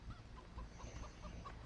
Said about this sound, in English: Walking around disturbing these chickens trying to get their eggs.